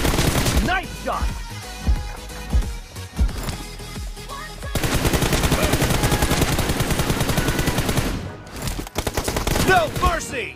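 Rapid automatic gunfire from an M416 rifle in a mobile shooter game, played on a OnePlus Nord CE 2, with sustained loud bursts and sharp single shots, a dense continuous stretch in the middle, then staccato shots at the end, and voices in the mix.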